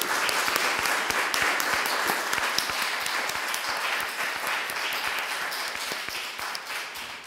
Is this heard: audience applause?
yes